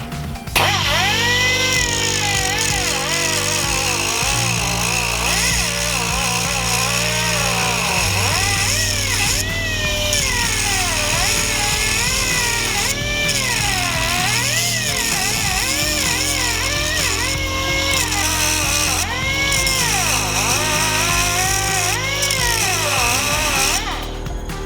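A power tool grinding off a wheel bearing hub in an automotive shop, a steady, loud whine that rises and falls in pitch over a low drone, running continuously without a break.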